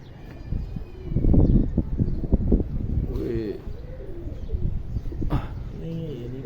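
A pigeon coos nearby in soft, low, repeated calls, with light rustling and a voice faintly in the background, at a pigeon-flying competition.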